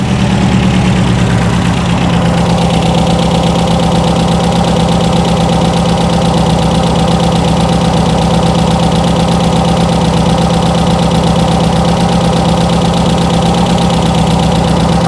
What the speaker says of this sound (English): Yeah, not sure what's going on with the idle.